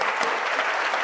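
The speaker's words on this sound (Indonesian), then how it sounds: "Berikan tepuk tangan." Audience applause at a church worship gathering, a dense, steady clatter of many hands clapping throughout, loud and close with no talk over it.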